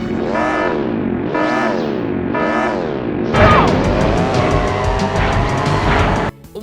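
In the original Crash Team Racing video game, three rising and falling electronic engine revs give way to a loud, buzzy kart engine drone with a rapid series of short blips on top, ending abruptly, no talk.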